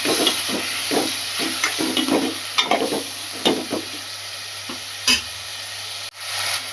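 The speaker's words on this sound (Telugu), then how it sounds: "ఇలా పచ్చివాసన పోయేదాకా వేయించుకున్న దాంట్లో టమాటాలు టమాటాలు వేసి ఉడికించుకోవాలి" Tomatoes sizzle in hot oil in a pan, tipped into a mixture already fried until its raw smell is gone, for a meal maker tomato curry, while a spoon stirs with steady scraping strokes over a constant close hiss.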